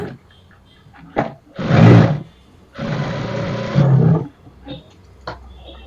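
A sewing machine stitches blouse fabric along a quarter-inch seam in two loud motor bursts, with quieter handling clicks between and after.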